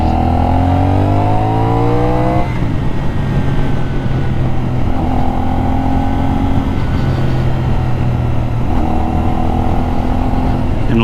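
A CFMoto 450 NK motorcycle engine is heard loud and close at low RPM while riding, its droning note rising and falling through several gentle throttle swells with steady wind rush throughout.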